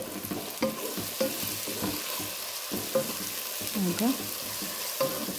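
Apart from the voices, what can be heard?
onion and tomato masala frying and being stirred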